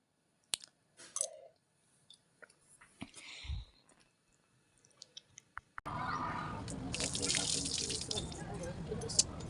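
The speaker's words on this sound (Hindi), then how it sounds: "इधर हम दोनों पानी डाल देंगे" Water is poured out as an offering to the sun on a village rooftop, a steady splashing stream that starts partway through after some scattered clicks and faint handling noises.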